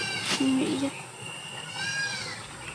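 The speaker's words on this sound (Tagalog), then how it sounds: "Ayun, rinig dito na naiyak yung kambing." A newborn goat kid on a farm bleats in a short, thin cry near the start, with a quieter higher call following, while people talk over the scene.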